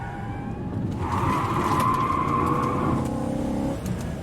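A car engine roars and climbs in pitch as the car accelerates hard, with a faint skid of the tyres, loud and close with no voices.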